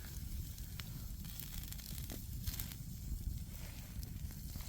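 Food sizzling as it cooks at a rainy, windy mountain campsite: a steady, faint hiss and crackle runs throughout without pause.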